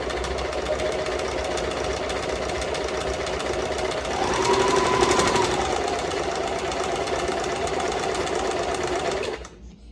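Sewing machine stitching a freshly woven towel just off the loom, running in a steady close whir that rises slightly in pitch midway before cutting off just before the end.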